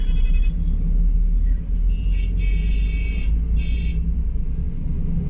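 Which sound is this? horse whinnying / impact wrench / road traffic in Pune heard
road traffic in Pune heard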